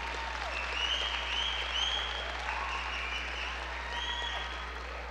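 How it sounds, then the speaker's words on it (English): A graduation ceremony audience claps in a soft, continuous wash of applause, with a few faint voices and whistles mixed in and a steady low hum underneath. "it's okay to give them a round of applause"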